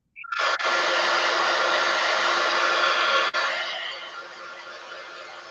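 A hair dryer blows steadily on a gel press art print, starting abruptly with a brief dip partway through, a close, loud, even whoosh.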